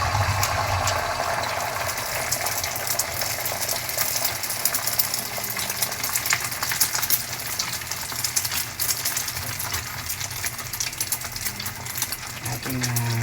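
Sponge gourd (patola) cooking in a pan as egg is added, a dense continuous sizzle and bubbling with a thin metallic scrape near the end, close and steady throughout.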